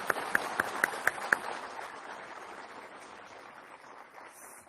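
An audience at an academic reunion awards event claps, with a few sharp individual claps at the start followed by softer, thinning applause that fades out, fairly distant and quiet.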